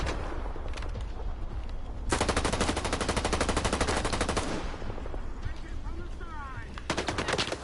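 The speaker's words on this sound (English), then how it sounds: "You can blind fire in this game." Blind-fired gunshots in the game S.T.A.L.K.E.R. 2, long loud bursts of rapid automatic fire with a pause between, close and harsh.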